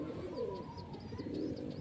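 Madrasi high-flying pigeons in a Kolkata loft give soft, continuous throaty cooing, several birds overlapping at close range with steady low murmuring and no pauses.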